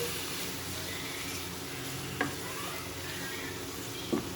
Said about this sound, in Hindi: अब इस सब को अच्छी तरह से हम मिक्स कर लेंगे।